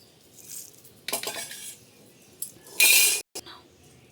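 A small mortar and pestle grinds a little batch of spices and chillies for a mango pickle, giving scattered clinks and scraping knocks with one louder grinding burst near the end.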